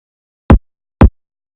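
A riddim snare drum sample processed with EQ and reverb hits twice, about half a second apart, each a short, punchy, loud strike on its own against silence.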